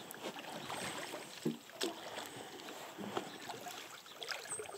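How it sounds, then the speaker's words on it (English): A rowboat rowed downstream on a small coastal river, with soft water swishes and a few knocking oar strokes against a steady outdoor wash of moving water, all fairly faint. "So I'm gonna row us down just a little bit."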